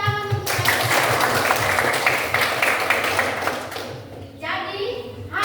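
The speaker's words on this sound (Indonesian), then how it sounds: "Kita kasih tepuk tangan untuk Aisyah." Classroom applause for Aisyah's group: a dense wash of children clapping fills most of the clip, then fades as the teacher's voice returns near the end.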